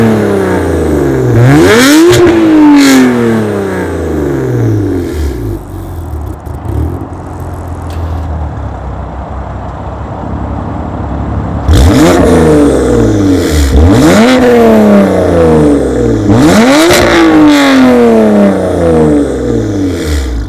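A BMW S55-engined M4 with an aftermarket exhaust revs hard at close range, sweeping up and down several times, then settles into a rumbling idle before more sharp, loud blips.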